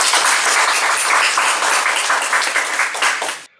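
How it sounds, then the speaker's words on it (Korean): Big round of audience applause welcoming a lecturer to an AI and ChatGPT talk for small businesses, dense loud clapping from a seated crowd that cuts off abruptly near the end. "큰 박수로 맞이해 주시기 바랍니다"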